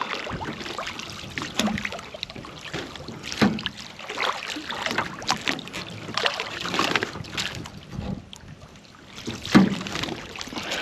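Pond water stirred up near a leaking earthen dam after polymer sealer is added, giving irregular sloshing and splashing close by, with wind buffeting the microphone throughout.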